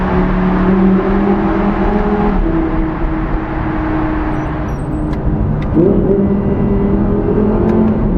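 A car engine revs inside a tunnel, a loud continuous roar with rising and falling pitch that echoes off the walls and swells again near the end.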